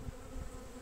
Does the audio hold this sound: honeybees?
yes